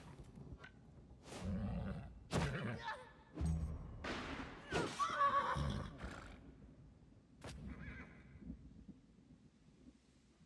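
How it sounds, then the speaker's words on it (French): A horse in the video game Wartales gives several loud whinnying neighs in the middle stretch, with thumps and other game sounds around them and quieter gaps before and after. "On a le cheval quoi."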